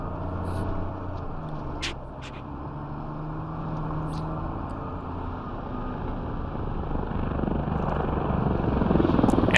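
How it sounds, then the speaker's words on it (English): A helicopter drones in the video game Squad, a continuous rotor and engine rumble that grows slightly louder toward the end, with a few faint clicks and no talking. "Enemy chopper."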